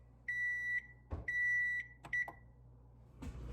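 An oven timer gives three clear electronic beeps as toast finishes: two long, steady tones and a shorter one, each separated by soft clunks in a quiet kitchen.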